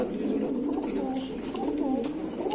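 King and Bombay pigeons at a market stall coo in low repeated murmurs, close by, while someone talks over them.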